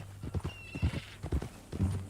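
Horse hooves clip-clopping in short rhythmic bursts with a whinny from a mean-looking new horse in Red Dead Redemption 2, close and clear with no talk over them.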